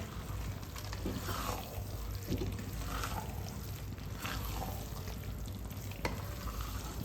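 A spatula stirs a brinjal stir-fry with chopped coriander leaves in a pan: continuous soft frying hiss with repeated scraping, mixing strokes at a steady rhythm, close and fairly quiet, no one speaking.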